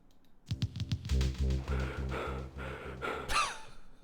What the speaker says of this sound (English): I like the little panting noises.